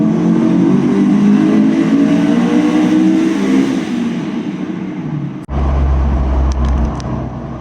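A 25-year-old Honda S2000 drives a mountain pass, its engine droning loud and steady under acceleration before cutting out abruptly. A low idle-like rumble follows, with a few faint clicks, and no one talks.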